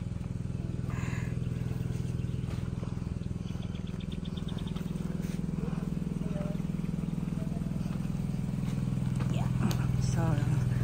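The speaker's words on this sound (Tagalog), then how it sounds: "Sarap pala sumakay sa motor mo" Riding a motorcycle at speed: a steady, continuous low engine drone runs throughout, with faint chirps and a few brief voices above it.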